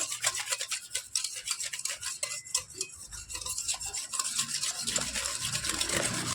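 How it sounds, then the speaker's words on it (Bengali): A spoon scrapes and stirs through ripe mango pulp mixed with cornflour, making continuous soft rubbing and rasping strokes close up, with no voices. "দেখুন আমি খুব সুন্দর করে নাড়াচাড়া করে মিশিয়ে নিয়েছি কর্নফ্লাওয়ারের কোনো দানা কিন্তু এর মধ্যে অবশিষ্ট নেই"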